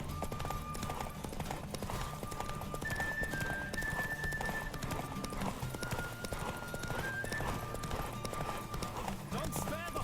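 Horse hooves pound at a steady gallop during a race in The Witcher 3, clip-clop loud and continuous with occasional neighs, all under game music and talk.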